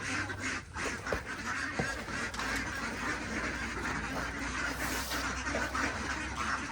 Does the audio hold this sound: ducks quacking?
yes